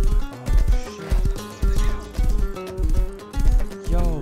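Horse in the Rust video game galloping in rapid rhythmic hoofbeats mixed with loud neighs and whinnies, close and prominent, with a high whinny near the end.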